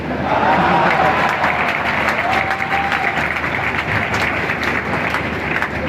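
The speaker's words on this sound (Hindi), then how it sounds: "इस पे आप ताली बजाएंगे" Sustained crowd applause from a poetry recital audience at a kavi sammelan in Sonkatch, Dewas, loud and dense throughout, with a faint voice briefly audible over the clapping.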